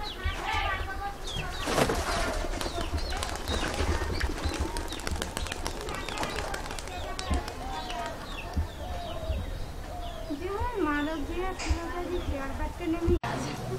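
Pigeons in a pigeon loft in Murshidabad, including birds nesting on eggs, call and coo in scattered bursts, with other bird calls and a person talking over them.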